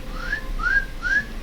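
A person whistles into a microphone, three short, close, clear rising whistle notes spaced evenly with brief pauses between them.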